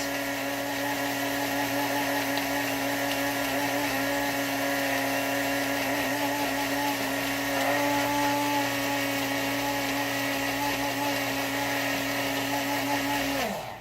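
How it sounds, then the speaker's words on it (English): A blender whirs continuously while puréeing chipotle habanero hot sauce, a loud steady motor drone with a gritty churning edge lasting many seconds before cutting off abruptly at the end. "now what you want to do is you want to open up your blender"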